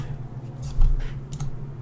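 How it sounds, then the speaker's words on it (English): Typing on a computer keyboard, a few soft close key clicks over a low steady hum. "Why do I keep typing 3?"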